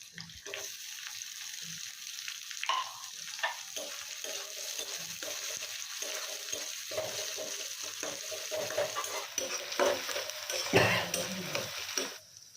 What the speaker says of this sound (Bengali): পেঁয়াজটা ব্রাউন কালার আসা পর্যন্ত ভেজে নেব